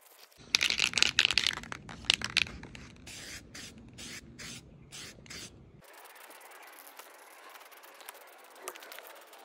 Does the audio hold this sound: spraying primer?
yes